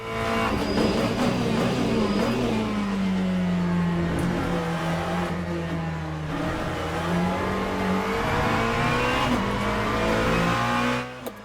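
A GT3 race car in the racing sim Le Mans Ultimate roars loud and close, holding a steady high engine note with slow pitch sweeps, gear changes and faint tire noise, all without speech.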